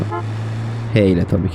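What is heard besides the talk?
car horn in video game GTA San Andreas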